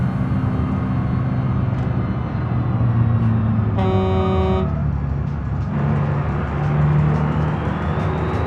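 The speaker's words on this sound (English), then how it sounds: "Gotta honk at him, it makes me feel better." A single car horn honks for just under a second in the BeamNG driving game, loud and steady over a continuous rumble of engine and road noise.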